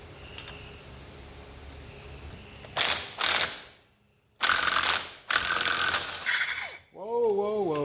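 Ratchet wrench turning to remove a part from a machine named Lockjaw, several bursts of rapid clicking ratcheting separated by pauses, close and fairly loud, ending in a squeaky whine.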